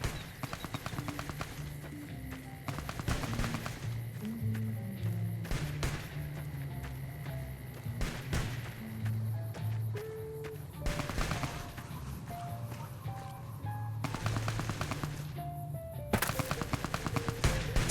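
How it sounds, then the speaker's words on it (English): Gunfire from the video game Fallout: New Vegas crackles in repeated bursts and single shots, loud and sharp, with brief lulls between volleys over the length of the clip. "Who is shooting?"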